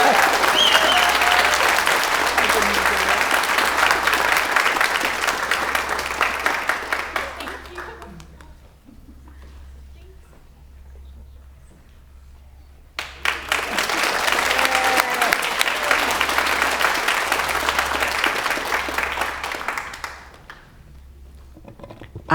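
A crowd at a radiography program pinning ceremony applauds a graduating award recipient: two loud, sustained bursts of clapping, the first dying into near quiet before the second swells up again.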